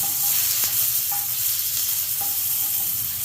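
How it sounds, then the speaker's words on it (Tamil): Banana flower chutney ingredients sauté together in a hot pan, a steady close sizzle and fry with a few faint clinks of a stirring spoon, no voices. "எல்லாமே ஒன்றா போட்டு வதக்கலாம்"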